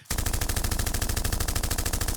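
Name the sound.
gun alarm playing gunshot noises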